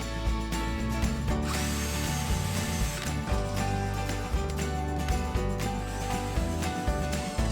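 A power drill drives screws to fasten OSB shelves onto perimeter and intermediate supports in a barn workshop, giving repeated close whirring bursts with ratcheting clicks and short pauses between screws.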